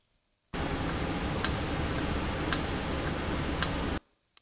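An industrial valve running normally gives a steady broadband hiss with three sharp, evenly spaced clicks about a second apart, close and moderately loud, then stops abruptly.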